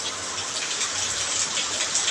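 Steady rain falls across a city, a dense even hiss of drops pattering on surfaces that holds constant throughout with no voices.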